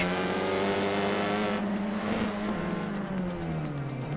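TCR race cars in the iRacing sim at St. Petersburg drone past at high revs, engines loud and sustained with shifting pitch as one car overtakes another.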